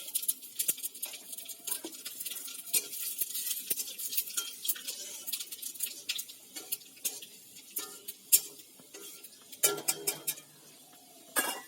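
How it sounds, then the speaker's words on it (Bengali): Bay leaf, dried chilli and panch phoron spit and crackle in hot oil, a fairly quiet scattered popping mixed with clinks and scrapes from a spoon against the pan. "আমি গরম তেলের মধ্যে দিয়ে দিচ্ছি এবার তেজপাতা, আর দিয়ে দিচ্ছি তেজপাতা, শুকনো লঙ্কা আর পাঁচফোড়ন।"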